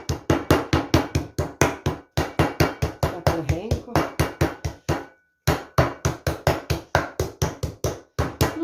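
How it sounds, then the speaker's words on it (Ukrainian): Chicken fillet for cheese-topped chops being pounded with a meat mallet, a rapid, even series of loud, close thuds that continues for several seconds, breaks off briefly, then resumes at the same pace. "Зараз буду відбивати другу сторону."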